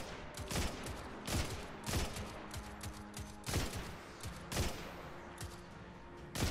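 Gunfire in the video game Destiny 2 rings out in sharp, loud bursts, around eight shots spaced irregularly, each followed by a brief echoing tail over a low steady game background.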